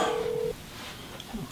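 A telephone rings once with a steady electronic tone that cuts off partway through, followed by quiet room noise and a faint rustle.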